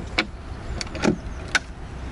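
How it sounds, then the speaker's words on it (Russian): An Audi A3 e-tron plug-in hybrid with a 1.4-litre petrol engine is unlocked, giving a few short, sharp clicks and clunks spaced about half a second apart, over a quiet outdoor background. "ну да, машину же надо открыть сначала"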